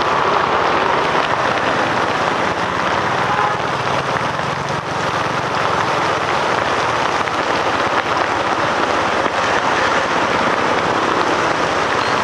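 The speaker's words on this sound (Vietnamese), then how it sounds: "Mưa mà tối trời tối đất à." Heavy rain pours steadily onto a street in Saigon, a dense, loud, unbroken wash of noise that holds for the whole stretch with no pauses.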